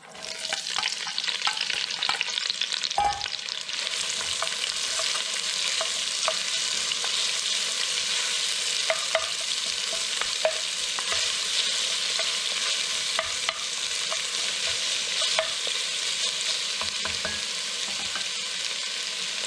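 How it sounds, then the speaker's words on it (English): Onions fry in hot oil in a Dutch oven with a bright, steady sizzle and scattered crackles that stay close and even throughout, with occasional clicks and scrapes of stirring. "I've got some hot oil in this Dutch oven, and I'm going to go ahead and start off with the onions"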